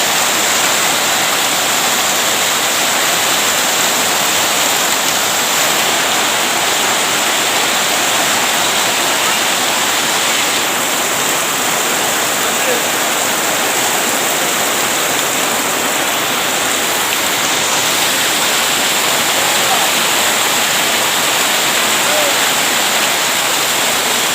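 Dense, steady roar of heavy rain pouring down continuously, a loud hissing wash with no breaks.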